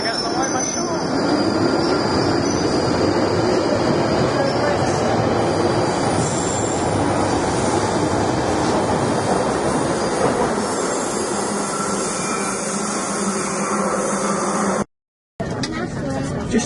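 Rumble and rattle of a train pulling out of London Euston station, a steady broadband roar of wheels and carriage noise heard from inside, continuous and fairly loud, briefly cutting out near the end.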